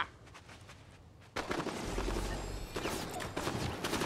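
Gunfire in the Fortnite video game, a burst of loud shots that begins after a second of quieter ambience and continues in irregular volleys, with sharp cracks through the rest.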